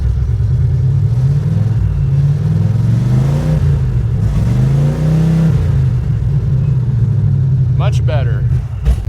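A 1972 Chevrolet El Camino V8, flood-damaged and just given a distributor adjustment, runs loudly up close with a steady low rumble, the revs swelling and easing, while a voice speaks briefly near the end.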